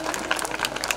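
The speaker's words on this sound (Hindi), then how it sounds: "बजाओ छोरो जोरदार ताली" A crowd at an Independence Day speech event in Dantour applauds, a brief burst of dense, fairly loud clapping with many hands at once.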